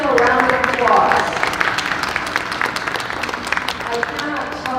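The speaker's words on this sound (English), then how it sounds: "would you please give them a round of applause?" An audience at a school district address bursts into applause, a loud dense round of clapping that slowly thins, with voices mixed in.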